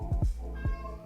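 A domestic cat meows several times in quick succession, close and fairly loud, with short rising-falling calls and a brief pause before a final cry.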